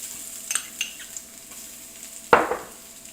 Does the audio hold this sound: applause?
no